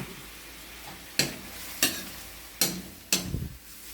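Squid adobo sautéing in a pan with soy sauce and pepper, a steady sizzle punctuated by four sharp stirring scrapes spaced about a second apart, close and moderately loud with no talking.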